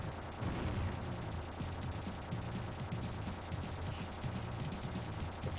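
Rapid machine gun fire from the Terminator 2 arcade shooter on Sega Genesis, a dense, steady stream of shots blended with game music and effects that runs unbroken through the whole stretch at an even loudness.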